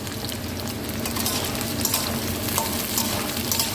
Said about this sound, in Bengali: এবারে বিনস আর গাজরগুলো এর সঙ্গে দিয়ে দিলাম, একসঙ্গে ভেজে নেবো।